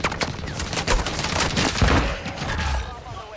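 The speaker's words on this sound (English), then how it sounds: "I'm getting shot at." Dense video game gunfire, rapid overlapping shots and bursts filling the whole stretch, loud and close with a heavy impact thud midway, with a voice faintly present under the shooting.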